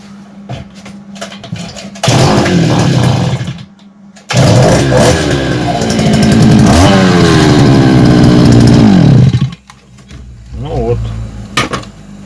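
A FORTE BMK-1943 petrol brush cutter being checked for an ignition fault. Its two-stroke engine catches and runs loud and close, cuts out briefly, then roars again for several seconds before stopping, leaving quieter background sounds.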